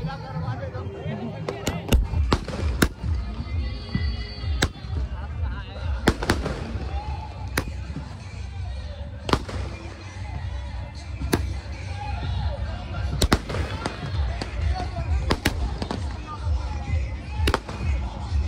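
Sky shot fireworks set off during a Chhath Puja celebration, a rapid series of sharp cracking bursts spread irregularly over the whole span, some loud and close, with people talking between and under the explosions.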